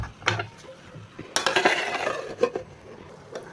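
A utensil scrapes and clatters in a pan of frying potatoes for aloo bhaji, with soft knocks and stirring scrapes over a low sizzle, close up and without talk.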